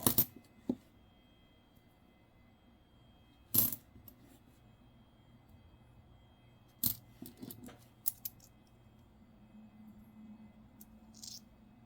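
Nickels dropped onto a pile of coins during a coin-roll hunt give a few sharp metallic clinks, widely spaced and quiet, with faint handling noise between them.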